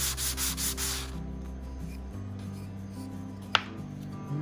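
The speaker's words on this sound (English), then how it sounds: "I'm just rubbing this along a flat sanding block with some 220" Steady rhythmic rubbing of 220-grit sandpaper on wood on a flat sanding block, a quick back-and-forth scratch for about a second, then quiet handling with a sharp tap.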